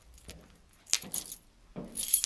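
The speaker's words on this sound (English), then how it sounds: "I'm just going to try and find out what kind of keys key works" A bunch of keys on a keychain jangles in three short metallic bursts, close and fairly loud, with quiet pauses between the rattles.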